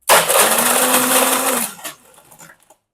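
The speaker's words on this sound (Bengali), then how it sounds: "সো এটাকে আমি সর্বোচ্চ হলে 2 থেকে 3 সেকেন্ড আমি ব্লেন্ডার করবো এটাকে।" A kitchen blender whirs loudly for under two seconds while blending iced cold coffee with sugar, then cuts off, leaving faint clinks and rattling.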